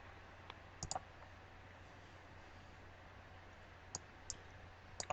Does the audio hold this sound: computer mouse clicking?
yes